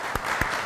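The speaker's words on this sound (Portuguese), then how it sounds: "Eu peço uma salva de palmas de toda a nossa plateia, de todos os nossos convidados especiais" Studio audience at a TV talk show honoring governor Eduardo Campos bursts into a dense, continuous wash of applause, many hands clapping together loudly, with no voices heard.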